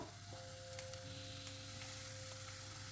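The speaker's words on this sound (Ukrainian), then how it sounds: "У сковорідку наливаємо олію, ставимо розігрівати сковорідку на вогонь і сюди закидуємо цибульку" Quiet, steady sizzling of onion frying in hot oil in a pan, with faint crackles and light clinks over a constant low hiss.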